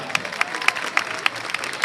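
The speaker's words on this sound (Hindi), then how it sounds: "बहुत सारी तालियां बजा दें" Scattered, fairly faint clapping from a conference audience, with irregular sharp claps over a diffuse crowd background.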